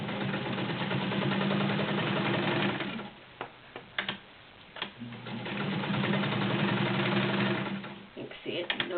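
A vintage 1960s Kenmore Model 1301 sewing machine stitches through eight layers of thick real denim on a tabletop: a steady close mechanical whir in two long runs, separated by a pause with scattered clicks and knocks.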